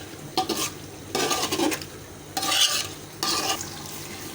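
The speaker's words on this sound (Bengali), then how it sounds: "মশলা কষানোর মধ্যে লবণটা দিয়ে দিলাম।" Spice paste is stir-fried with salt for a mixed-vegetable labra, the spatula scraping and clinking against the pan in four bursts of rough stirring over a low sizzle, with no voices.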